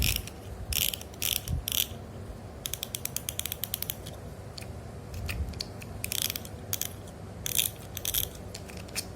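Go Strike Maverick SW fishing reel clicker ratchets as the spool is opened, giving quick bursts of sharp clicking with short pauses between them, close and fairly loud against a low background hum.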